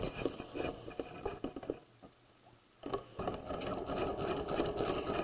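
A sewing machine runs a basting stitch along a quarter-zip jacket's zipper. It gives a close, rapid mechanical patter that stops for about a second midway and then starts up again.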